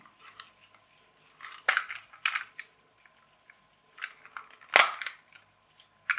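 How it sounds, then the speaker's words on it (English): Sharp cracks and snaps of glued plastic parts of a flywheel toy tractor breaking apart come in scattered bursts, close and crisp, with quieter creaks and clicks between them. "Looks like it was glued, just made a pleasant cracking noise."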